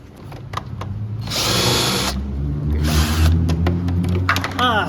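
Power drill unscrewing fasteners from a Kawasaki Ninja motorcycle fairing during a restoration: two loud, close bursts of whirring, each about a second long, with clicks and handling noises between them.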